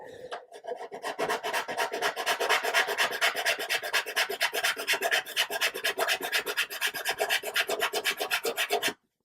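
Steady, rapid back-and-forth rasping of sandpaper on a small hard part of a 1/200 scale Scharnhorst warship model kit, close up and continuous for several seconds before stopping abruptly.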